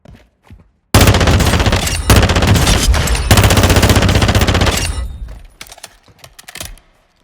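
FR Avancer assault rifle in Call of Duty DMZ firing long, loud, rapid automatic bursts at close range, with brief pauses between strings of shots before trailing off into quieter sounds.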